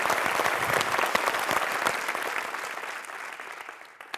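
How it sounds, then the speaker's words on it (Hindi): A hall audience claps warmly for Kishan Kumar and the people of Nawanshahr, a thick, continuous round of applause that slowly thins and tapers off over about four seconds. "एक बार फिर तालियों से सलाम करते हैं किशन कुमार जी को और नवा शहर के लोगों को।"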